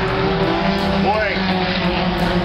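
A Dodge Neon race car slides sideways through a dirt-track turn at Jennerstown Speedway, its engine roaring loud and steady with a brief tire scrub mid-slide, and a commentator's voice is heard under the racing noise.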